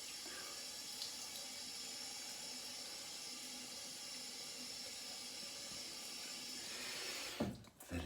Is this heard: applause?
no